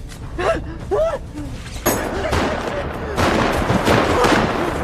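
Gunfire from the action film Red Rig crackles through a dense, loud battle scene, dialogue and voices at first, then sustained rapid shots and impacts filling the rest.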